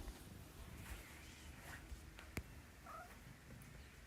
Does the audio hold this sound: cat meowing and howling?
yes